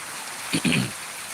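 Unseasonal rain in Jambughoda gives a steady, soft hiss throughout, with a brief, louder rustling burst near the middle.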